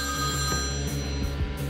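Telephone ringing in a Scream 6 film excerpt, a steady electronic ring with a repeating pulsed pattern, close and fairly loud, heard alone without speech.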